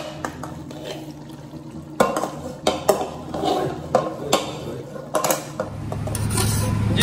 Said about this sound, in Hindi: ये बर्तन है छोटा, इसी में ये मसाला मैं इसमें डाल के, तो फिर थोड़ा देर और पकाते हैं इसको।